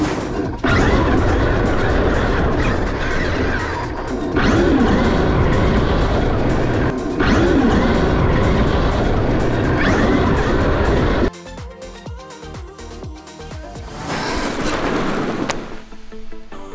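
A Traxxas X-Maxx RC car drives hard, a loud whirring motor rising and falling in repeated surges with scrapes and impacts, then cutting to quieter rough rolling and clattering toward the end.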